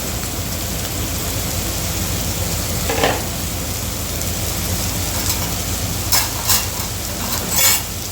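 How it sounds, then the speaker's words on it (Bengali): Food frying on full heat in a pan is stirred with a ladle, producing a steady loud sizzle with a few brief scraping strokes standing out over it. "এই হাতাটা দিয়ে আমি একটু নাড়াচাড়া করে নেবো"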